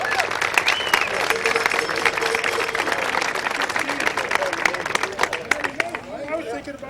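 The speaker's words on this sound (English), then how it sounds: "How about a big round of applause for Jeep?" An audience at a speedway honoring ceremony breaks into sustained applause, dense clapping with crowd murmur and a few cheers, tapering off toward the end while talk from a voice sits under it.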